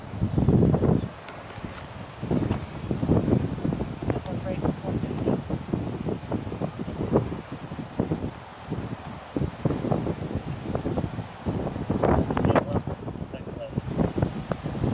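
Strong wind roars and buffets the microphone outdoors at a roadside police stop, a steady gusty rumble running the whole time with people talking over it.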